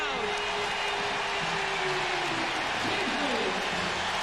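Basketball arena crowd roaring during a 1999 NBA playoff game between the Jazz and Kings in Sacramento, a dense, steady wash of cheering that stays loud throughout, with a commentator's voice running over it.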